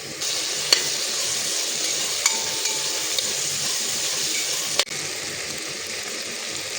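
Onions, turmeric and tomatoes frying in oil in a pan for a fish curry, giving a steady, close sizzle throughout with a few faint clinks of stirring.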